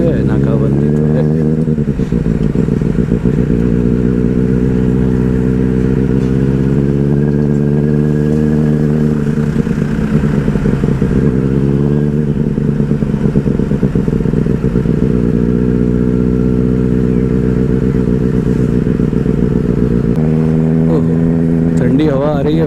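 A KTM Duke 250 motorcycle engine hums steadily at a constant mid-range pitch while riding, continuous and close throughout, with slight pitch shifts as the throttle changes and a voice talking over it.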